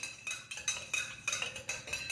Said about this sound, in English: So we'll give that a good stirring